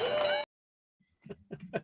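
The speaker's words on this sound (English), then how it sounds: "Ring the bell." A single bright bell ding rings out briefly at the start of a livestream, then falls silent before voices begin talking.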